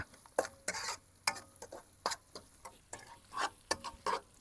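Fish stir-fried with curry paste in oil over low heat outdoors by a reservoir, with a soft sizzle under sharp, irregular clicks and scrapes of a spatula against the pan, close and fairly quiet.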